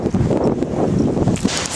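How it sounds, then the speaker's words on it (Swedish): Strong wind buffets a handheld microphone outdoors, a loud continuous low roar with gusty swells throughout and no speech. "gud vad det blåser"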